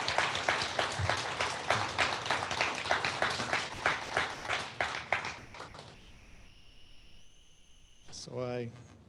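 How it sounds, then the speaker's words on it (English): Audience applause following a talk at an office gathering, a dense burst of clapping that fills the first six seconds, then thins out and fades away, with a brief bright tone at the end. "Let's give another round of applause."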